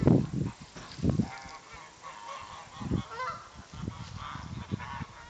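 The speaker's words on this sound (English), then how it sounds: "Here's our new flock of geese and turkeys who think they're geese." A flock of geese, with turkeys among them, honks repeatedly nearby, calling over one another with loud bursts and a constant low clamor.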